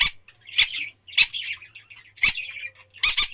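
Pet birds chirping while feeding, a series of short, bright, close chirps in quick bursts with brief pauses between them, some calls doubled, with no talking.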